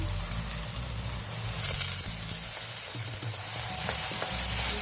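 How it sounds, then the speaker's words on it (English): Breakfast food sautéing in a pan under a lid, a steady close sizzle and crackle with a few faint clinks, holding even throughout with no talking. "we're just going to cover with our lid and make that saute down for like a minute or two"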